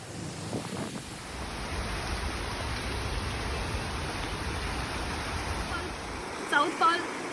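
Rushing water from a waterfall at Silver Falls State Park, Oregon, a loud, steady broadband roar that fills the whole stretch, with a couple of faint brief sounds near the end.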